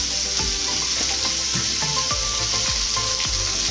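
Vegetables fry with salt and turmeric in a pan, giving an even, loud hiss of sizzling oil that runs the whole time, with faint knocks and low thuds scattered beneath it.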